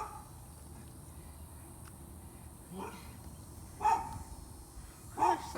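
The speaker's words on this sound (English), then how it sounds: "Our neighbor dog is barking." A neighbor's dog barks a few times at a distance during a backyard garden potato harvest, separate sharp barks over quiet outdoor background with some talk.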